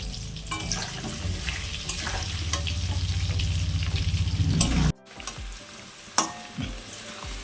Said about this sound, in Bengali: আমার আলুগুলো ভাজা হয়ে গেছে, এবার আমি এগুলোকে তুলে নেব